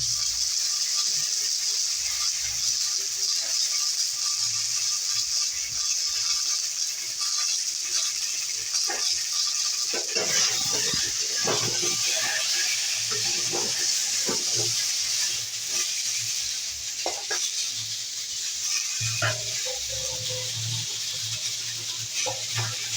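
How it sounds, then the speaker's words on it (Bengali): Raw green banana pieces fry lightly in a pan of oil for a mixed vegetable dish, giving a steady close sizzle throughout with a few soft stirring clinks and scrapes. "কাঁচকলাটা ভেজে নিই একটু হালকা করে"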